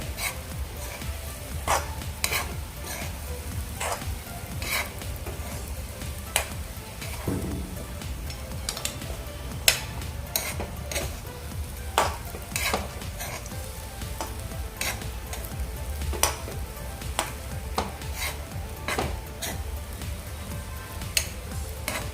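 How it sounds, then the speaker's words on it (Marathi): Chapati chivda being stirred and fried in a pan, a steady sizzle under repeated scraping and tapping of the spoon against the pan, continuous and fairly close throughout. "आता हे सर्व आपण व्यवस्थित असं मिक्स करून घेऊया"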